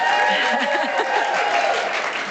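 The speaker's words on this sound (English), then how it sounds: "Yes, clap for her." Steady audience applause at a chamber of commerce board installation event, dense and even clapping across the whole stretch with some faint voices mixed in.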